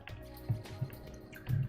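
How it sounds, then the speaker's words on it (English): Gulps of water being swallowed close to a microphone, several soft wet clicks and squishes spread over a second or two, faint and unaccompanied. "Sorry if you guys could hear me swallowing water"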